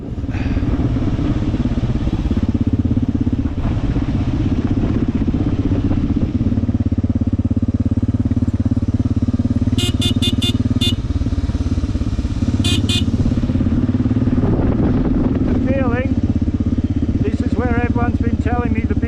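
Several motorcycles idle with a steady low engine rumble on a mountain road in India, with a few short horn beeps and clatter over the continuous drone.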